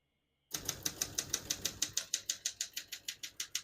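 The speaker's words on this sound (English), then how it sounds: "all the keys type nice and none of them skip or stick" Typing on a 1974 Olympia SM9 vintage portable typewriter: after half a second of silence, a steady run of about twenty crisp, close keystrokes at an even rhythm.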